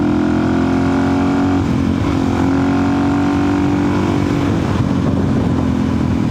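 Suzuki DRZ 400 supermoto cruising in top gear, a loud, steady engine drone with constant low pitch and wind rush, close up and unbroken.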